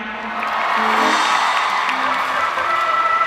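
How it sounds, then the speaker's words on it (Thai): Audience at a Thai fan concert (Cutie Love Fan Concert) applauding and cheering steadily, a dense wash of clapping and shouts that holds for a few seconds at even loudness. "ขอเสียงปรบมือให้คุณแม็กซ์ด้วยครับ"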